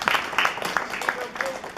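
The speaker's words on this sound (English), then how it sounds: "Oh, also clapping, yeah." Scattered audience clapping fills a room at a hobby robot club meeting, a loose patter of hands that rises and fades in short bursts while voices murmur underneath.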